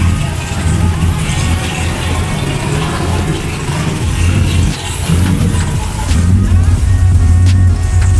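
A Formula Drift car engine runs loud and steady at a Texas drift event, with a deep rumble under distant crowd noise and a brief dip partway before it picks back up.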